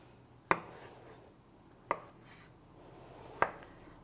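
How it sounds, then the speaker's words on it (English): A knife cuts peeled roasted squash into cubes, sounding as three distinct, evenly spaced thuds against a cutting board over a quiet background. "Peel comes off nice and easy once it's been roasted, and then we can cut it up"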